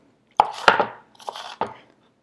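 A knife slices papaya into thin rings on a cutting board: four distinct close cutting thuds with short crunchy tails, spaced unevenly over a quiet background.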